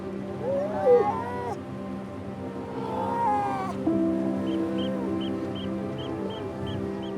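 Grey seals call across a late-season breeding beach, where females rest with their pups, giving drawn-out, wavering moans and wails, with a couple of nearer cries over a steady background hum and faint chirps.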